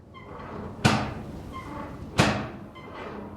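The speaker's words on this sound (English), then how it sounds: "Well, what happens if I knock again?" Two sharp knocks on a door in the Nancy Drew game The Haunting of Castle Malloy, spaced more than a second apart, with faint ambient tones in between.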